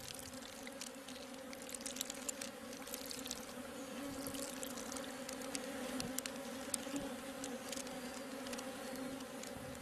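Dense, steady buzzing of a honeybee colony at the hive, a continuous hum with individual bees flitting close by, faint and unbroken throughout.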